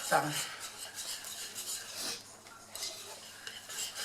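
Olive and ham cake batter whisked in a bowl with crushed olives: quick metallic scraping and tapping of the whisk against the bowl, continuous and close, with no talking.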